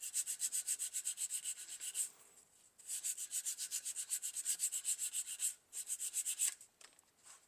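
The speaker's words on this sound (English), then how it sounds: "I'm going to just lightly sand that spot a little bit" Light hand sanding on a car A-pillar trim piece, a close, rhythmic back-and-forth scratching in quick strokes, with three runs broken by short pauses and no talk.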